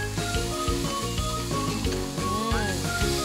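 Fresh coriander sautés for a mutton bone soup with a steady sizzling hiss and soft stirring scrapes, close and fairly quiet, over a faint tonal background hum.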